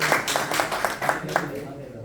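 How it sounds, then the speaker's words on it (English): A small audience claps to welcome a student presentation team, a few quick, separate claps close together that fade out within a couple of seconds. "let's give Team 1 a round of applause and to welcome them"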